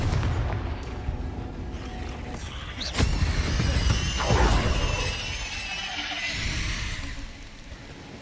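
A Confringo fire spell bursts in Hogwarts Legacy with a sharp explosive crack, followed by a rolling blast and crackling debris that fade over several seconds.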